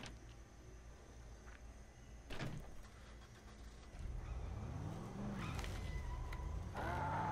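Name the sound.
truck door and getting into truck, Dead Island video game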